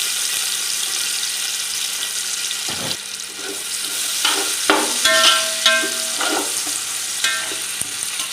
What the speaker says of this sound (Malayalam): എണ്ണയ്ക്കകത്ത് ഒന്ന് മൂക്കണം. അതിനുശേഷം ഒരു സവോള അരിഞ്ഞത്, ഒരു ക്യാപ്സിക്കം,